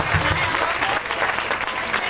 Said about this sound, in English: applause for one of our very, very special guests